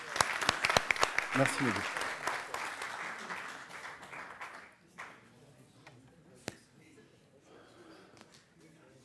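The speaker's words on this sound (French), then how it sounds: "On peut l'applaudir" An audience applauds a speaker at a talk on mindful leadership, loud clapping filling the first five seconds before fading, then a quieter room with someone speaking briefly.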